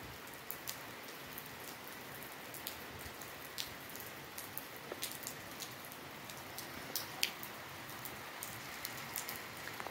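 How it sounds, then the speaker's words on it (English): Steady, faint rainfall patters on a surface, with scattered louder drips standing out against the soft hiss. "The sound of rain is always nice"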